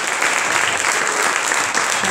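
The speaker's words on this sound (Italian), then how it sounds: "bisogna fare un applauso, facciamoglielo più forte ai catechisti" An audience applauds the catechists at an end-of-year catechism recital, with loud, continuous clapping from a full room, steady throughout and without any speech on top.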